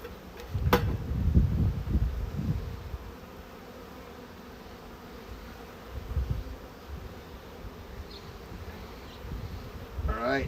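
Honeybees buzzing during a hive inspection at an apiary, a dense steady hum close to the microphone, with louder low rumbling bursts near the start and around six and ten seconds.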